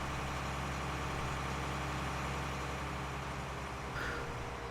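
A 360-horsepower tractor engine from the farming game Farming Simulator 19 drones steadily with a deep, continuous rumble, loud and close, holding an even idle-like tone throughout with no talk.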